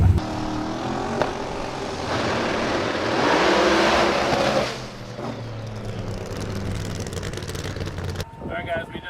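ProMod drag race car roars loudly down the track on a test pass, swelling for several seconds before dropping away into a fainter rumble, with a voice heard over the noise.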